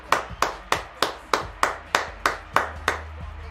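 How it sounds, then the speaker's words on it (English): A single person claps slowly and evenly, about ten sharp close hand claps in a steady rhythm during a live sports betting show, with no talk over them. "Everybody, round of applause."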